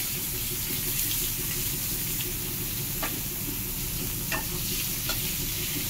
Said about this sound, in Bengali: তারপরে বেগুন আর আলু দিয়ে আলু একটু ফ্রাই করে নেওয়া হবে।